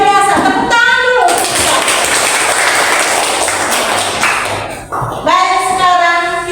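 A class of pupils in a mathematics lesson bursts into loud, dense applause that lasts several seconds, with children's voices just before and after.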